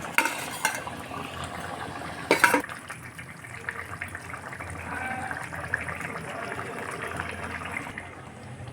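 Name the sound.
fried eggs being added and stirred into potato egg curry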